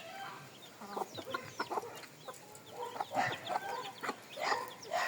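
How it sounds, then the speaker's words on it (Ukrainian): Hens clucking in a backyard coop, several soft, close, irregular clucks and murmurs in short bursts against quiet background, with no talking. "а ось четверта курочка"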